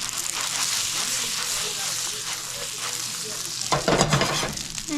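Shrimp sear in butter in a pan with a steady, close, dense sizzle, swelling into a louder burst of crackling near the end as they are moved around.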